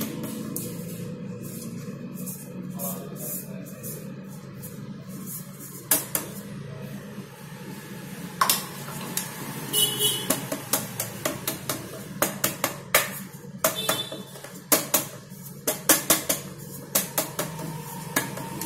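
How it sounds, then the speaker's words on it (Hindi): A metal spoon scrapes and taps around the inside of a cake tin, spreading a spoonful of flour ahead of a chocolate cake bake: steady soft scraping that turns into frequent sharp metallic clinks and knocks, close by, with no talk. "अभी हम इसमें ये 1 चम्मच मैदा डालेंगे और इसे अच्छे से चारों तरफ लगा देंगे।"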